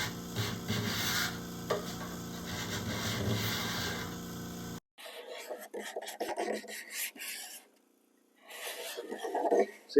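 Close, rasping scrapes of a freshly sharpened hand scraper shaving wood come in repeated strokes, with short pauses between passes and no talking.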